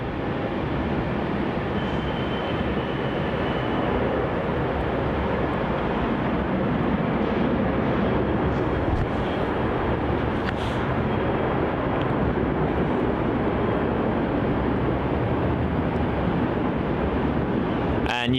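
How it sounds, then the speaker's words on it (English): A Jetstar Airbus A320-200 departs Melbourne Airport, its jet engines producing a steady, broad roar that holds at an even level for the whole stretch. "On departure here is Jetstar flight 654 departing off to Canberra, the nation's capital. It's an A320-200."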